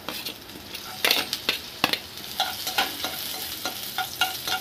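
Shahi cumin and chopped garlic fry in oil in a pan, a bright continuous sizzle broken by scraping stirs and light clinks of a utensil, close and loud with no talking.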